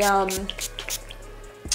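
Mario Badescu facial spray with aloe, herbs and rose water is misted onto a beauty blender sponge in several short, close hissing spritzes, with a voice briefly at the start.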